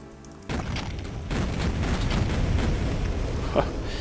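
An explosion in the Duke Nukem 3D level Raw Meat, a sudden loud blast at the half-second mark that gives way to a sustained rumbling roar with a sharper crack near the end.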